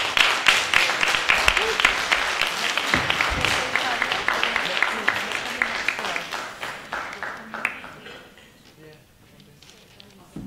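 Conference audience applauding at a leaders' event: dense, loud clapping from many hands that rolls on for several seconds, then thins to scattered claps and fades out near the end.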